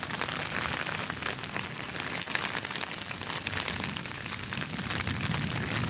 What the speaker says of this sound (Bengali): আজ সকাল থেকে প্রচুর পরিমাণ বৃষ্টি